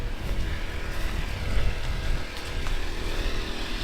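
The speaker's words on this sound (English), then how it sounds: "I think that's the generator." Generator running with a continuous rumbling drone, steady and fairly loud throughout, without speech.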